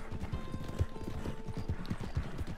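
A mare's hooves clip-clop in a steady, quick rhythm as she trots across open plains in Red Dead Redemption 2, with close, crisp repeated hoofbeats.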